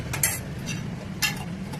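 Curd being stirred into a dish cooking in a pan, heard as two quick spoon scrapes against the pan over a low, steady background hum.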